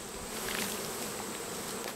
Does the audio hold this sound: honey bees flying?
yes